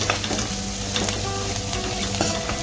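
Coriander stems stirred in hot oil in a pan give a loud, continuous sizzle close by, with soft scraping from the stirring and no voices.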